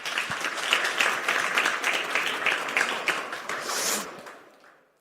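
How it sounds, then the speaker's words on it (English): Audience applause at CNH Industrial's 2025 Tech Day, a dense, sustained clapping from a sizable crowd that holds steady for about four seconds before fading away, with no talk over it. "Your applause."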